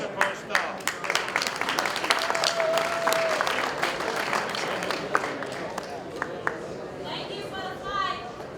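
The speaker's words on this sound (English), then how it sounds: "Round of applause." Applause at a boxing post-fight press conference, scattered sharp claps from a modest crowd with chatter and a voice over a microphone, fading toward the end.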